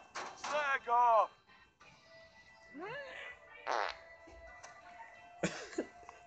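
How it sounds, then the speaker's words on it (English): A loud, drawn-out cartoonish fart from a character in the Tales from the Borderlands video game, followed by several shorter, squeakier blasts and other game sounds, with gaps of near silence between them. "He just farted."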